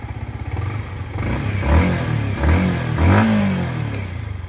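A Yamaha MT-15 motorcycle engine with a throttle body fault idles close up with a lumpy, uneven beat, surging and dipping in several irregular revs rather than holding a steady tone.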